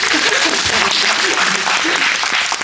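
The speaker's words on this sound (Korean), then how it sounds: "여러분 박수 한번 부탁드립니다" Dense, steady applause from a film-screening audience at a Q&A event in a Yongsan CGV cinema auditorium, filling the whole clip at close range with no gaps.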